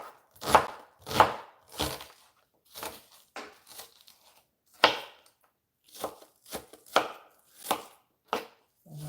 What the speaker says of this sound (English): I'm chopping some onions.